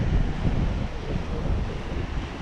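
Steady wind buffets the microphone at a dog beach by the water, a loud, continuous low rumble with surf faintly mixed in and no voices.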